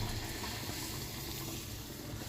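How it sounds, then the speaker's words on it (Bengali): Hot water is poured into a pan of cauliflower and fish curry for gravy, a faint, steady rush of liquid with no talk. "এখন দিয়ে দেবো যে ঝোলের জন্য পানি"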